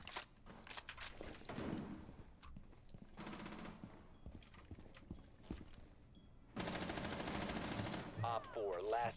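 Gunfire rattles through a Rainbow Six Siege match in sustained automatic bursts at moderate loudness, with footsteps and game noises in between.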